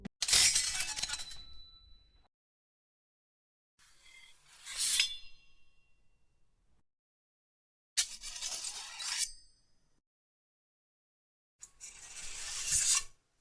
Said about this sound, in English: A sword being drawn,